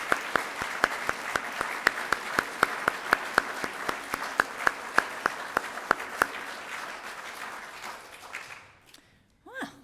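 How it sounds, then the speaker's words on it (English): A graduation audience applauds, a broad wash of clapping broken by sharp, regular nearby claps, fading out toward the end. "Can we start by giving our lovely graduates a really big round of applause?"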